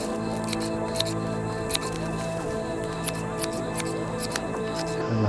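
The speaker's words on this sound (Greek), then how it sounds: "Ελαφρύ ψαλίδι." STIHL ASA 20 battery pruning shears cutting olive branches during summer pruning, a string of quick sharp snips and clicks at close range over a steady background hum, with someone talking now and then.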